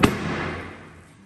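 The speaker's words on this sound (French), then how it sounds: "C'est ici que ça craque." A single sharp crack from the lower suspension arm of an Audi RS6, a short loud knock that rings out and fades over about a second, with no talking.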